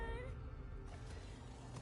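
A cat in the video game The Elder Scrolls Online lets out one drawn-out, close meow that rises and then fades, heard over a low ambient rumble.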